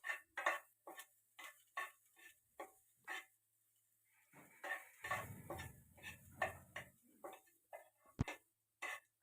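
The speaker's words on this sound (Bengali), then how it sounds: "কাঁচা লঙ্কা কুচি, পেঁয়াজ কুচি, এগুলোকেও একটু ভেজে নিচ্ছি। জাস্ট একটু নাড়িয়ে নেওয়া হচ্ছে।" Chopped green chili and onion stirred and frying in a pan, with a run of spoon scrapes and clinks against the cookware and a brief burst of sizzling in the middle, close and fairly quiet.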